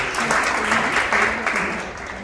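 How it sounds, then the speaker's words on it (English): A crowd at a startup founders' night event claps loudly and continuously, the applause gradually fading toward the end, with faint voices mixed underneath. "So a big round of applause for Wangeshi."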